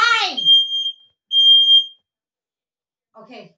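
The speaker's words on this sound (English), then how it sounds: "Why are there both alarms?" A household smoke alarm going off during cooking, two sharp high-pitched electronic beeps close by, with a voice speaking before and after them.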